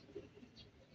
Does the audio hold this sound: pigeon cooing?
yes